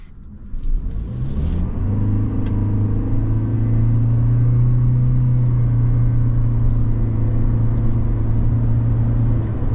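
A 2024 Toyota Corolla Cross SE hybrid pulling away from a stop, its engine droning up with a rising then steady loud whirring rumble heard from inside the cabin.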